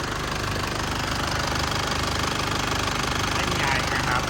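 An Isuzu diesel engine runs steadily up close, with a dense, knocking clatter that holds at one even level throughout.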